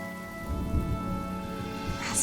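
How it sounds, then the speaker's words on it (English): Rain falls in a video game trailer for Honkai: Star Rail, a steady close patter of drops on a surface with a low rumbling undertone, heard without talk. "The rain will accompany you, and the rain will bless you."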